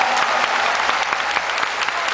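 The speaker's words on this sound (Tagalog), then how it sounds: "Malakas na palakpak." Audience applause fills the room, dense, steady clapping from a crowd at a family testimonial gathering, loud and continuous throughout with no talk over it.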